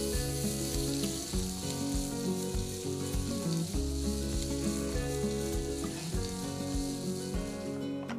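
Spices sizzle and fry steadily in hot oil on a home stove, a loud, continuous crackle with light stirring throughout and no talking.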